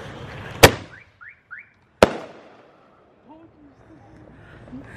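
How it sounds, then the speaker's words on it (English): Two sharp, loud firework bangs set off in a neighbourhood street about a second and a half apart, followed by car alarms chirping and wailing in short repeated bursts, with faint voices in the background. "a lot of car alarms went on"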